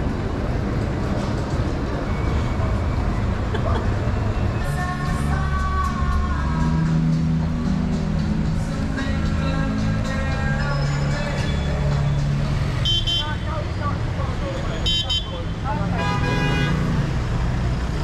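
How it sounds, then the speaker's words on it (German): Heavy city traffic in Athens, with engines rumbling and car horns tooting in short bursts, the steady road noise continuing throughout. "Unglaublich, der Verkehr hier."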